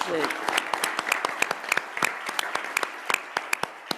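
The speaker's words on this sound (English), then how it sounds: "Let's have a round of applause for those." A small crowd at a Kiwanis club meeting claps in scattered, uneven bursts, individual hand claps distinct rather than a dense roar.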